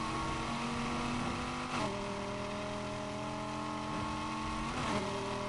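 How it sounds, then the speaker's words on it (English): A steady engine hum from a V8-swapped BMW M4 cruising in the video game Need for Speed Heat, with a couple of brief pitch shifts like gear changes, continuous and fairly close. "This sounds like a V8."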